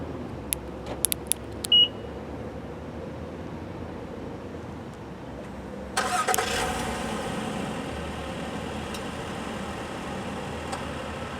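A 2018 Acura RDX started by remote from its key fob: a few short beeps and a chirp, then the engine cranks and catches, settling into a steady idle heard from outside.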